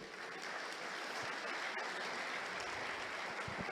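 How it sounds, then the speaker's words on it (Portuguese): A church congregation applauds during a sermon, a dense steady wash of clapping from many hands filling the room at even loudness throughout, with no voices rising above it. "Você pode aplaudir Jesus por isso?"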